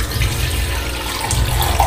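About 200 ml of water, one glass, poured into a cooking pot, splashing continuously and close for roughly two seconds with no speech.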